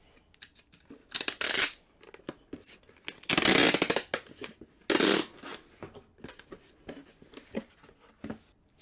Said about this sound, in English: Throw a little bit of tape on that.